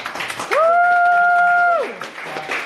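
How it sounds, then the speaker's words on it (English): Audience at an improv theater graduation show applauds a performer, scattered clapping underneath a loud sustained whistle-like tone that holds for over a second before fading back to the clapping. "Give him a round of applause, please."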